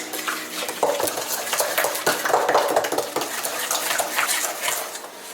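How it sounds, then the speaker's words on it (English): Eggs whisked in a bowl for a carrot cake batter, a steady rapid scraping and clinking of whisk against the bowl, close and continuous with no talk. "Have another egg. Whisk this."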